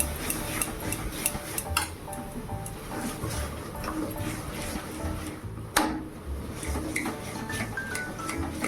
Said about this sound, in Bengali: তো দেখো ডালটা ঘুটে দিলাম